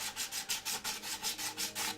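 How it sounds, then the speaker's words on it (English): Rapid, rhythmic rubbing of a sanding pad, about four strokes per second, steady and close with no talking. "So I've got my, my sanding pad here."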